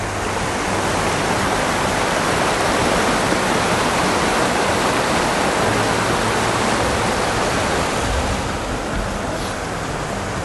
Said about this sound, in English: Right by the not raging, but the flowing river.